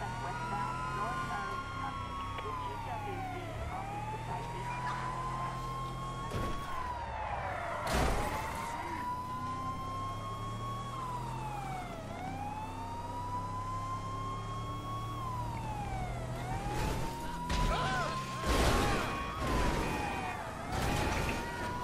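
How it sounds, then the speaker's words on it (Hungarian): Police car sirens wail in a GTA 5 chase, several sirens sweeping up and down in long overlapping cycles, loud and steady over game engine and traffic noise, with sharp crashes and bangs breaking through. "Kurva sziréna"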